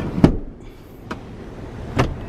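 Three short, separate mechanical clunks from a seat in a 2018 Mazda CX-9 Signature as it slides back on its track. They are spaced about a second apart and sound close and moderately loud inside a quiet cabin.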